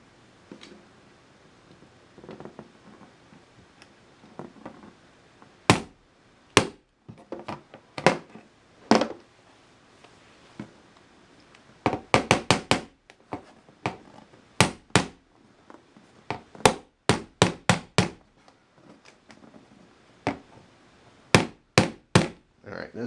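Tiny nails are tapped into a wall to hang a wood and glass display case, with sharp close hammer strikes coming singly and in quick clusters of two to four blows, separated by quiet handling pauses.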